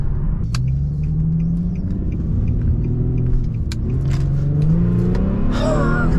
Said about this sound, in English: just the regular throttle revved pretty close to redline